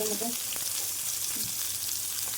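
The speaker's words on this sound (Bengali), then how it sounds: "আমি একটা একটা করে এখানে যে উপকরণগুলো আছে আমি একটা একটা করে দিয়ে ফ্রাই করে নিচ্ছি" Spices and masala frying in white oil for chicken singara, a steady broadband sizzle with faint clinks of stirring, close and continuous throughout.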